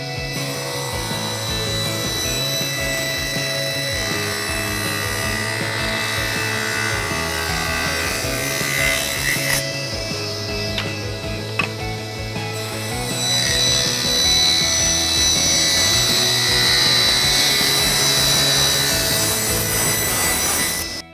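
A saw blade cuts through wooden blocks for a sink-mounted dish drying rack, a loud, steady rasping drone that runs continuously for about twenty seconds, with a short dip near the middle and no voices.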